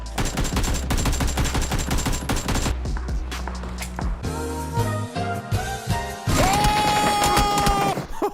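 Gunfire in a video game played on a budget gaming PC: bursts of rapid automatic shots and loud single reports mixed with game music and mechanical clicks, dense and close, with no talking.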